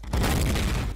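A firework bursts in the video game DayZ, a loud rumbling explosion that starts abruptly and roars for nearly a second before tailing off.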